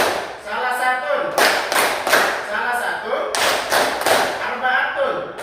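A classroom group doing a tepuk clapping chant for an ice-breaking activity, with rhythmic bursts of many hands clapping in time alongside chanting voices, loud and close.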